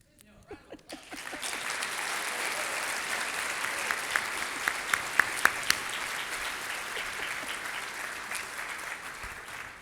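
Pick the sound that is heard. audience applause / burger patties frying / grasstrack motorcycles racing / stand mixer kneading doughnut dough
audience applause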